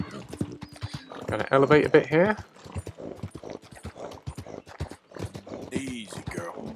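A horse's hooves clip-clop at a canter in the video game Red Dead Redemption 2. The steady hoofbeats run under someone talking, with a brief whinny-like call partway through.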